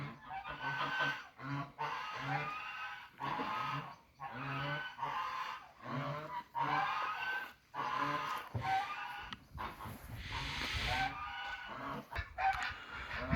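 Geese and other poultry in a newly built enclosure at a former sawmill yard give a steady run of loud, close honking and clucking calls in repeated bursts for the whole stretch, with no talk.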